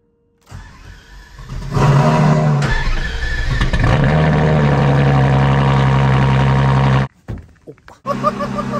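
A Ferrari LaFerrari's 12-cylinder engine barks to life close up and settles into a loud, sustained roar, cuts out abruptly near the end, then fires again.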